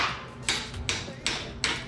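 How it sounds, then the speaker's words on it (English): A hammer strikes a welded bolt on a Kawasaki KZ750 motorcycle in a series of five sharp metallic blows at a steady, moderate pace, loud and close. "But I started hammering this."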